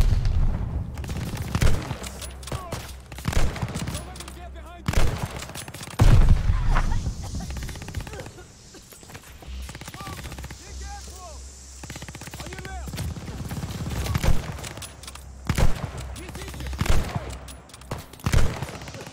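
Rapid bursts of gunfire from the Call of Duty Vanguard mission Lady Nightingale, with repeated loud volleys and booms close up, broken by brief lulls and mixed with game sound effects and a talking voice.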